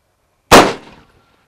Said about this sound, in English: first shot we're doing here is going to be a green tip,